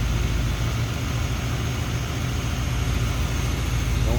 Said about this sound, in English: 390 V8. Listen how smooth that is.